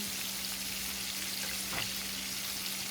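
Shrimp frying in oil on medium heat for bang bang shrimp, a steady dense sizzle with a steady low hum and one brief stir or bubble burst partway through.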